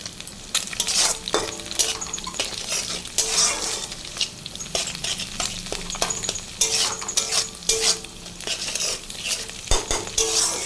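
Salted rice fries loudly in a kadai while a spatula repeatedly scrapes and clinks against the metal, giving a rhythmic stirring pattern over a continuous close sizzle.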